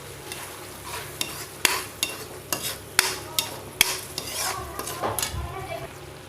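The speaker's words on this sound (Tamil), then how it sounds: "சேர்த்து நல்லா வதக்குங்க" Vegetables with salt stirred and sautéed in a pan for a gravy: a close, crackling sizzle punctuated by repeated sharp clacks of a spoon against the pan, with no voices.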